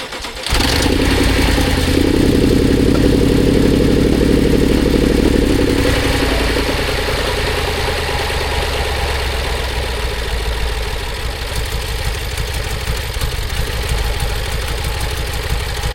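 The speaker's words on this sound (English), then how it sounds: "So the engine noise is slowly getting worse and worse" BMW X5M engine starting and idling with a knocking fault, a loud continuous rumble whose knock grows rougher and more rattly over time, close and alone.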